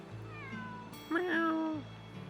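A cat meows twice in the video game Suikoden V, a faint short call followed by a louder, longer falling meow with clear tonal sweeps, alone over quiet background music.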